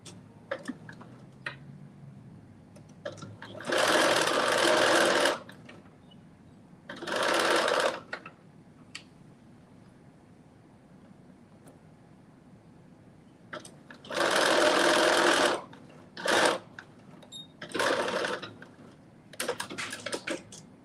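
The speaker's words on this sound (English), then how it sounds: "You just want to stitch through the seam allowance." Sewing machine stitching through a garment's seam allowance in short bursts of rapid, close mechanical chatter, separated by quiet pauses with small clicks and handling noises, several runs of a second or two each.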